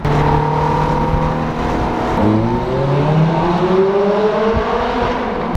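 A car engine hums steadily from inside the cabin, with gear-shift rises in pitch as it accelerates and slows in traffic.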